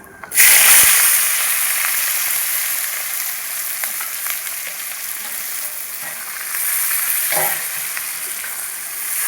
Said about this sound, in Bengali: পেঁয়াজ হালকা ভাজা হয়ে গেছে